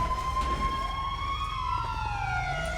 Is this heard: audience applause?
no